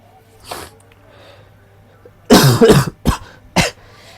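A person with a cold coughs: one faint cough, then a harsh, loud cluster of close coughs followed by two more single coughs in quiet surroundings.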